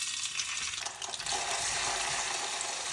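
Hissing, crackling sizzle of potatoes frying in hot oil in a pan, steady and fairly quiet, with a faint stirring clatter.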